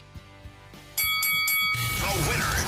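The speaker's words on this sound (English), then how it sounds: "Ring that bell." A bell rings out for a sports fight segment, a sustained bright ringing with repeated strikes after a few soft knocks, washed over by a noisy crowd-like roar toward the end.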